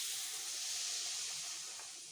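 Mendoan, battered tempeh, frying in very hot oil, giving a steady, dense hiss that stays even and fairly close throughout, with no voices.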